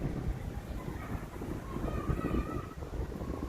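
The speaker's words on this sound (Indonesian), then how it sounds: "Ya, ini sedang berangin, mungkin kualitas mikrofonnya gimana?" Wind buffets a Samsung Galaxy A73 5G phone microphone in a steady low rumble throughout, outside a mosque in Karawang, with a faint hum of distant activity underneath.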